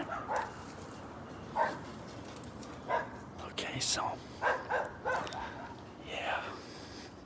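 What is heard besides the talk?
dogs barking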